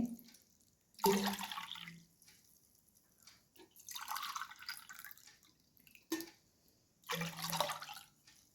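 Three glassfuls of water are poured into a vessel to make an herbal drink, each a short splashing gush separated by quiet pauses.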